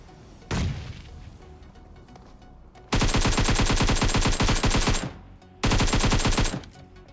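AKM gunfire in the video game PUBG: one sharp shot, then two long rapid automatic bursts, loud and close with no talk.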